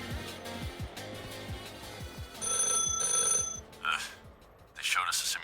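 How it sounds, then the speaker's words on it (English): A telephone ringing in the video game The Last Caretaker, a shrill electronic bell sounding in two bursts, with rhythmic mechanical thumps and other game sounds underneath. "Oh god, another phone call."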